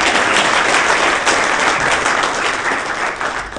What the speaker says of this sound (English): Quick round of applause for all the folks who